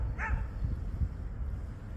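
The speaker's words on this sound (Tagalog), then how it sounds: "May aso doon." A single short dog bark or yip rings out at a moderate distance over low outdoor rumble and handling noise, with no talking in the moment.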